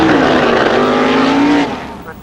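Dragster with a fiberglass Fiat Topolino body and 302 cubic inch small block Chevrolet V8, naturally aspirated on petrol, a loud rasping engine roar rising briefly then fading off, with a voice talking over it.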